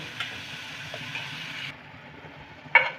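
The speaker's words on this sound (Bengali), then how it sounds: "টমেটো পিউরিটা দিলাম আরও আমি একটু এক থেকে দু মিনিটের মতন একটু কষে নেব" Tomato puree frying in a pan while cooking a raw-banana kofta curry, a steady soft sizzle for most of the clip that drops away, then one brief louder sputter near the end.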